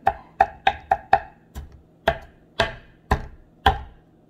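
A knife chops onions on a cutting board in a home kitchen, about ten sharp, close knocks, the first five quick and evenly spaced, the rest slower with short pauses, with no talking.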